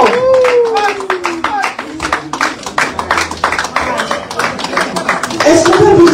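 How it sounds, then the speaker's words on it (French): Dense, steady clapping from a crowd at a press conference, with a loud voice carrying over the applause throughout. "sous vos applaudissements."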